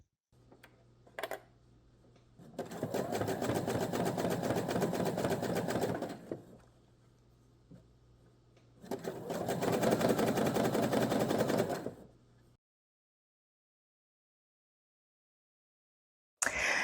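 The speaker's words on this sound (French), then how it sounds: "Et je fais une première piqûre au point zigzag pour tenir les deux parties ensemble avant de l'assembler à la surjeteuse" A sewing machine runs a zigzag stitch in two dense bursts of several seconds each, separated by quiet clicks and handling, with a brief start of another machine, a serger, at the very end.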